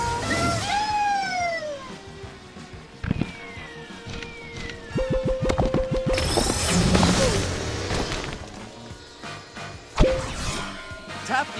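Cartoon cars race in the PJ Masks Racing Heroes video game, with electronic engine whooshes, rising chime-like tones, rapid clicking bursts and a sharp crash-like hit, all busy and continuous with no voices.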